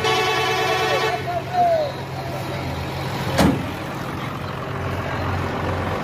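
A cargo truck loaded with goats idles and rumbles nearby, a low steady engine drone with a brief hiss and clatter partway through, while people talk over it.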